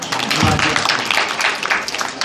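A short burst of hand clapping from a small gathering, dense and brief, with faint voices mixed in.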